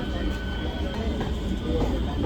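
Train standing at a railway station with a steady low rumble and hiss throughout, a busy crowded platform atmosphere with faint voices mixed in.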